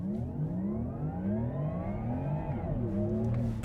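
Porsche Taycan GTS Sport Turismo electric car launching hard under launch control, a loud rising motor whine climbing steadily in pitch with a shift in tone near the end, no voices over it.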